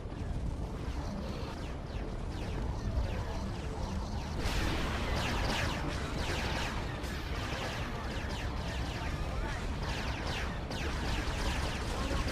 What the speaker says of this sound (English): Hull, overcharge the guns.